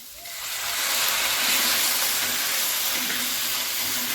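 Tomatoes hitting hot masala in a pan for paneer butter masala, bursting into a loud, steady sizzling hiss that swells in the first second and keeps going.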